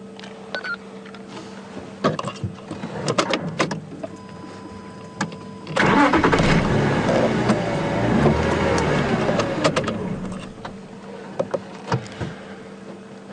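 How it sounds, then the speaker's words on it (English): A safari vehicle's engine at a game reserve revs up for several seconds, a loud close roar rising above quiet idling and scattered clicks, with no talk. "I'll give you a rev."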